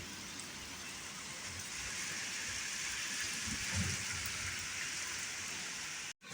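Heavy downpour pours onto a flooding house, a dense, constant roar of rain hitting surfaces and water, close and steady, cutting off abruptly at the end.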